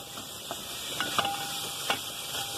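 Cubed bacon, about 100 grams, frying in a pan, a steady soft sizzle and hiss throughout with a few faint pops and clinks, no talking.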